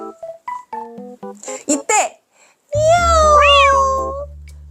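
A short run of bright, chime-like musical notes, then a long, drawn-out cat meow rising and falling over a sustained musical backing, in a children's telling of The Bremen Town Musicians.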